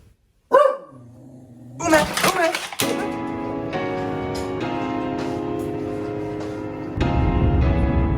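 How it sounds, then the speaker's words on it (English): A dog in Japan barks sharply a few times up close, then the scene fills with a steady hum of background noise and movement. "Look at this dog freaks out."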